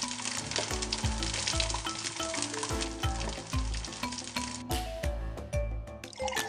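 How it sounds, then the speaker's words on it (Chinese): Hairtail fish pan-frying over low heat in a Zhoushan seafood kitchen, with continuous close oil sizzling and crackling broken by frequent sharp pops and spatters. "小火煎，外层变得松软酥脆"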